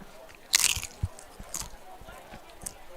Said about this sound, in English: Great crunch on the tortilla chip.